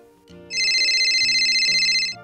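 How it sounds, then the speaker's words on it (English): A telephone ringtone sounds loud and close as an incoming call arrives, a steady bright electronic ring lasting over a second over a soft background melody. "It looks like we have a phone call from one of our friends."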